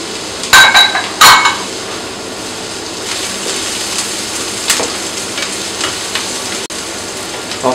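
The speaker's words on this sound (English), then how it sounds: "So once the butter melts, add the onions and apples." Onions and apples frying in melted butter in a pan, a steady close sizzle with a few sharp clinks of a utensil near the start and occasional soft scrapes.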